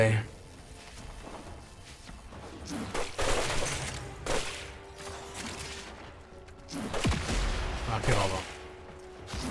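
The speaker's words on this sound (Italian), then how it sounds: "Esplosione qua." Explosions in the sci-fi game Tau Is In Sight come as several heavy booming crashes spread across the clip over a low hum, with someone speaking briefly between them.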